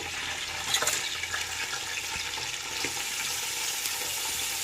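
Bay leaf, cinnamon, cardamom and shahjeera frying in hot oil for Nellore chicken biryani, giving a steady close hiss and sizzle with a few small crackles and no talking.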